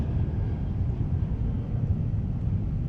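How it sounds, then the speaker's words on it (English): In the Prepar3D flight simulator, an airplane takes off outside an Airbus A321 cockpit with the window open, a steady broad rumble holding at an even level throughout, with no talking. "you can hear indeed some airplane taking off"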